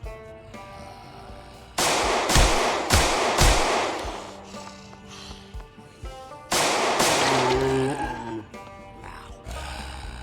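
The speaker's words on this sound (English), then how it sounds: "Celebrating like a true American with handguns and noisemakers." Handgun shots crack out in Project Zomboid: sharp, loud reports, several in quick succession, then another cluster a few seconds later, with grunting and other game noises between the shots.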